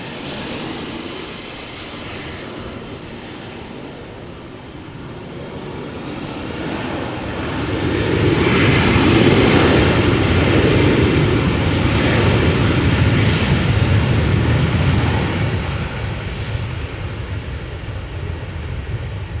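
An 11-year-old Embraer 190 jet departs Amsterdam Schiphol in gusty crosswind, its engine roar swelling loud for several seconds and then easing to a distant rumble, with no voices.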